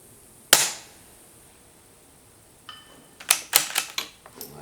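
A .22 Ruger RPR rifle fires at a steel gong on a long-range match course: one sharp shot with a ringing tail, then a quick cluster of several snapping shots and clicks after a short pause.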